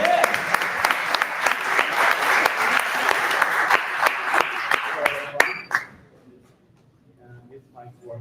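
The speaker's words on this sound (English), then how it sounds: "Put a round of applause for Alexi" An audience at an automated prompt engineering workshop breaks into loud, dense applause for about five seconds, then it quickly thins out into near quiet with faint scattered sounds.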